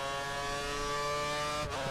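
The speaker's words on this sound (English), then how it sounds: "And Alex is right now running full revs" A Formula 1 car in the racing video game F1 2013, at the Canadian Grand Prix, holds a steady, buzzing high-revving engine drone at full revs, loud and continuous with a brief dip near the end.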